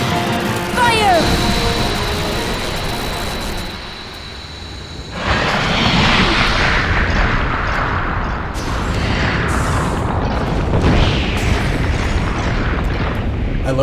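A Fire spell goes off in Kingdom Hearts during end-game farming as a sudden loud burst, then a rumbling, crackling blast that lingers for several seconds. Game effects and a voice sit around it.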